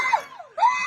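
A person trapped inside a car screams in two short, shrill bursts, the second rising sharply, loud and close, heard alone over a brief moment.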